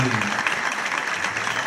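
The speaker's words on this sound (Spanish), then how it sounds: "Fuerte aplauso para eles." Applause at a Christmas gala, a dense steady patter of clapping filling the short moment, with a voice briefly heard at the start over it.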